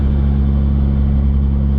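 A 1995 Mitsubishi Eclipse GSX, tuned to around 800 horsepower, idles with a deep, steady engine rumble, loud and close, with no talk over it.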